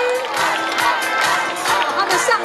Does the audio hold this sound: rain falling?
no